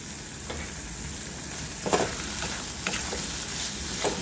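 Onion and tomato chutney sizzling in a pan as coarse roasted peanut powder is stirred in, a steady close frying hiss with occasional scraping stirs of the spoon.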